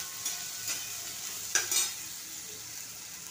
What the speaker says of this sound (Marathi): आता हा कांदा चांगला भाजून घ्यायचा. 5 मिनटं भाजून द्यायचा.